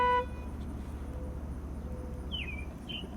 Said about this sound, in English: I'm gonna honk.